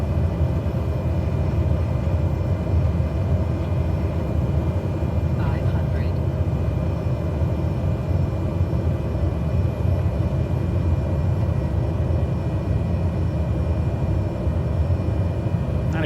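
Steady, droning propeller engine hum of a Cessna 208 Caravan in Microsoft Flight Simulator during a sideslip descent, continuous and unchanging for the whole stretch while someone talks over it.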